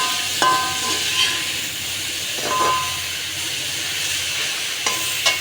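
Sliced onions being stirred in a hot cooking pan, a steady hiss of frying broken by a few sharp scraping clicks of the spoon against the metal, close by with no voices.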